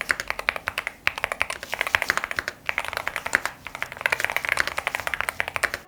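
Fast, evenly paced key presses on a Boog 75 Hall effect keyboard form a dense stream of crisp, close clicks with a few short pauses between bursts.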